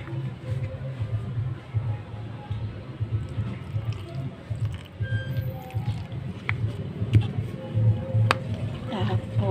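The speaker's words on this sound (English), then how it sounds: "i-mix lang natin hanggang sa makuha natin yung consistency na gusto natin" A spoon stirs mung bean sprout pancake batter with corn, tuna, salt, pepper and added water in a bowl, giving soft wet squelches and occasional clinks, close up under faint background noise.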